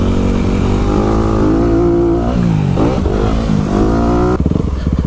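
A motocross motorcycle on the dirt track at Elsinore MX Park, its engine loud and close, holding a steady drone, then dipping and climbing through quick revs as the rider shifts to an easier gear and brakes.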